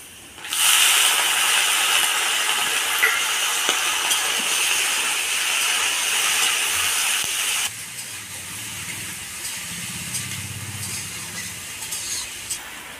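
A loud, steady sizzle as bottle gourd pieces hit a hot pan, then the hiss drops sharply and settles into a softer frying crackle.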